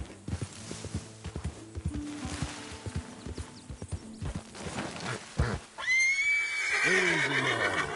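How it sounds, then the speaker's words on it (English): A horse in Red Dead Redemption 2 clops along with irregular hoofbeats, then lets out a loud, drawn-out whinny near the end, heard close and alone. "Quite the horse."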